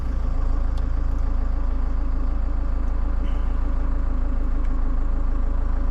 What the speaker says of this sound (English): Let's start the engine, see what happens.